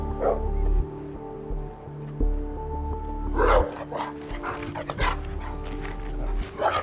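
A dog tied on a rope at a remote camp in the Siberian wilderness barks and yips repeatedly, loud and close, with whimpering between barks over a steady low engine-like hum.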